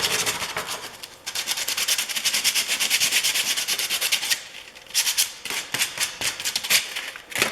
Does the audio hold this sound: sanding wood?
yes